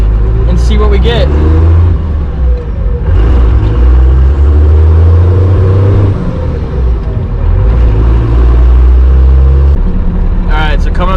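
A Dodge car with a completely stock shifter setup drives off through its gears, the engine note rising and falling between shifts under frequent nearby talk, with a loud rumbling drone throughout.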